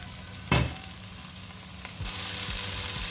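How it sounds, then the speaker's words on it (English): About 200 ml of coconut milk goes into a hot pan of lamb meatball coconut curry. A sharp thud comes first, then a close, crackling sizzle builds and keeps spitting with small pops. "now let's add our coconut milk"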